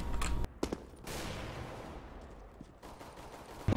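AK rifle fire in Counter-Strike, with a few sharp shots early on, then a longer rattling stretch of fire and noisy echoing tail, and another crack at the very end, fairly quiet overall.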